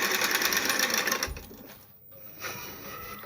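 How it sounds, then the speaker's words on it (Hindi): A sewing machine stitching a summer kurti, running in a steady fast whir for over a second, then slowing and easing off before starting up again more quietly. "मैं इसको स्टिच कर रही हूँ"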